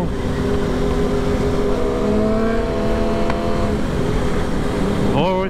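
A car engine pulls hard and steady in fourth gear, a loud, continuous rising drone with strong harmonics, during a Memorial Day ride-out with a rider told to wear a helmet; wind noise and voices blend under it.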